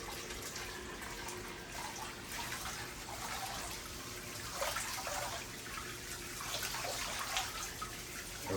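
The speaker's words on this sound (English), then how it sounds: "that'll aerate the water, and the filter obviously filters the water" A pond filter aerates and filters the water in a 300-gallon indoor turtle pond, a steady rush of splashing, bubbling water that runs without pause, close and moderately loud.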